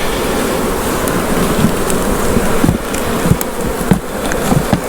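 Honey bees swarm around an open hive during a split, producing a loud, dense, continuous buzzing close up, with occasional faint taps and knocks underneath.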